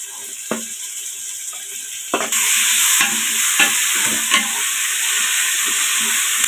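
Coriander and tomato being stirred and sautéed for beef paya salna, scraping stir strokes at first, then a loud steady sizzle with repeated spoon scrapes against the pan, close and without talk.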